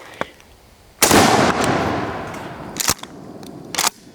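A Remington 870 shotgun fires at a Firebird target about 20 yards away outdoors: one loud blast with a long decaying roar, then two more sharp reports and a faint earlier pop.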